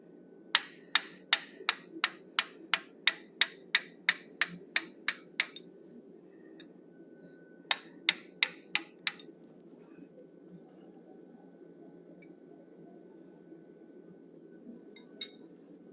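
A hammer strikes a 1/8 inch fuller on hot steel while a wolf head is forged, ringing out in a quick run of about a dozen evenly spaced metallic blows, then a shorter burst of five, then a single late strike.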